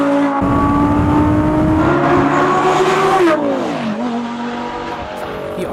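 An Audi R8 with a 5.2-liter V10 FSI engine revving loud and close, its pitch climbing hard then dropping away, with a brief screech near the peak.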